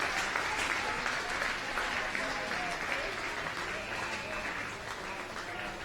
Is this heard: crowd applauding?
yes